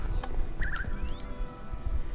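Minecraft parrots squawking aboard a pirate ship build: a short, warbling bird call over a low, steady game background, faint and brief.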